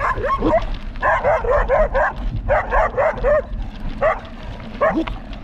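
A dog barks repeatedly near a cyclist touring through Egypt, sharp yapping barks in quick bursts with brief pauses, loud and close.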